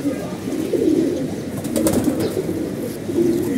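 Large pigeons with red eyes coo steadily near the microphone, a low continuous murmur with a faint flutter of wings and some light background noise.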